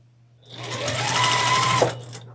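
A sewing machine stitches strips of fabric together for a quilt block. One continuous, close whir lasts just over a second, then stops abruptly.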